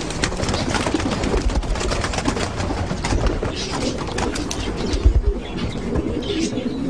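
Pigeons coo in soft, repeated throaty calls, with a few brief chirps and a wing flutter, amid a busy outdoor background of steady noise.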